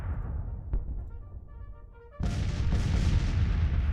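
Booming Civil War artillery cannon fire on a battlefield in a strategy game, with a low rumbling ambience, a sharp distant shot early on, then a loud heavy barrage bursting in halfway and continuing as sustained rolling fire.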